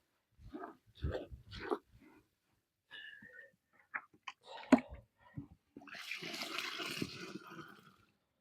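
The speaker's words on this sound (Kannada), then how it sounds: "ಈಗ ನಾವು ಚುರುಮುರಿನ ನೀರ್ ಬೆರೆಸಿ ಅದನ್ನ ಮೃದು ಮಾಡ್ಕೊಳಕತ್ತಿದೀವಿ." Puffed rice is softened by mixing it with clean water. Brief scattered knocks and rustles come first, then a sustained watery swish and splashing near the end.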